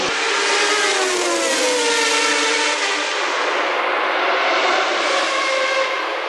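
Formula 1 cars of Senna and Alesi racing wheel to wheel, a loud continuous high engine whine with shifting pitch sweeps as they pass and accelerate, no voices.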